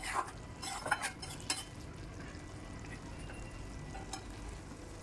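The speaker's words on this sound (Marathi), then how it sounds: "हे असं छान तेल सुटेपर्यंत आपल्याला भाजून घ्यायचे आहे." Spice masala with onion and tomato for egg masala fries in oil, a soft steady sizzle with occasional stirring scrapes and utensil clinks near the pan.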